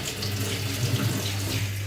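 Tap water runs steadily over a kitchen knife while feta is being cut for a Greek salad, a continuous close splashing stream with no voices.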